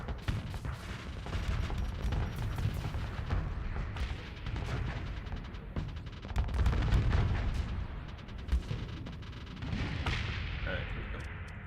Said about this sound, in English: I can just fire my harpoons.